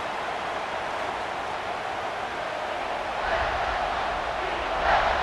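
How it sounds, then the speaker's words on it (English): A stadium crowd roars steadily in EA Sports College Football 26 during a third down in the red zone, a dense, continuous wash of cheering that swells slightly toward the end. "this crowd is getting behind this defense"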